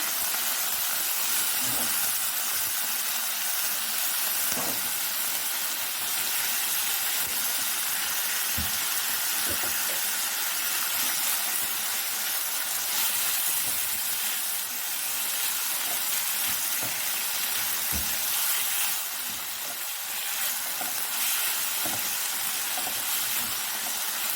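Chicken with ginger garlic paste sizzles in a frying pan, a continuous bright hissing crackle that holds steady and close the whole time, with no talking.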